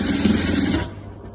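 Sewing machine stitching a 3D embroidered ornament, a brief close burst of rapid mechanical whirring that stops abruptly partway through.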